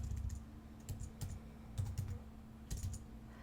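Keyboard typing while setting up a Poshmark shop link, a few quick bursts of key clicks spaced across the moment, fairly quiet and close, over a low steady hum with no talk.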